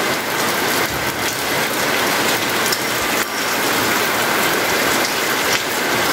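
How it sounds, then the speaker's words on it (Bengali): Light morning rain falling steadily, a dense even patter of drops on surfaces close by, with no voices. "সকাল সকাল ঝিমঝিম বৃষ্টি পড়তেছে"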